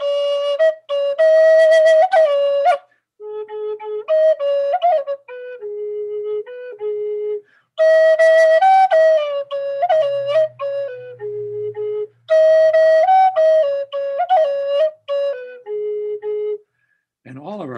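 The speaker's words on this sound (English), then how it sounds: "I'll do it on a flute first." Flute playing an Abenaki children's song about pine trees, clear melodic phrases repeated with pauses between them, close and alone apart from a faint low murmur.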